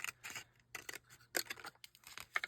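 Scrap paper being trimmed by hand for a junk journal, with a run of crisp scissor snips and short paper rustles coming in quick irregular bursts, close and fairly quiet.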